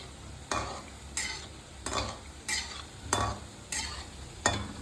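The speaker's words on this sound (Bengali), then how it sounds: "গ্যাসটাকে একদম কম করে ভাজা করছি, যেন ভেতরটাও খুব সুন্দর হয়ে যায়" Ledikini, a Bengali sweet made with carrot, paneer and sooji, frying on a very low gas flame, with a quiet bed of sizzling oil and a regular run of about seven spoon strokes scraping through the pan, near and without speech.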